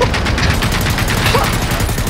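Rapid video-game gunfire pours at a boss in steady bursts, loud and dense throughout the moment with no pauses, dominating the mix.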